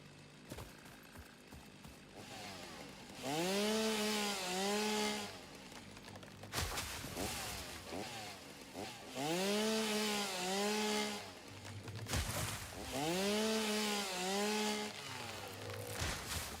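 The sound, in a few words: chainsaw cutting wood, from video game Satisfactory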